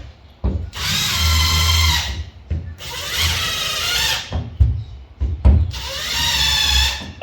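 A power drill bores holes into drywall in three loud, close bursts of whining motor, with short gaps and handling knocks between them.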